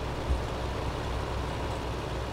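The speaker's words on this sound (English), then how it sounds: "When you turn on the wood chipper, by the way, your tractor revs up." Tractor engine in Farming Simulator 2015 revving steadily while powering a wood chipper, a constant low droning rumble with no talking.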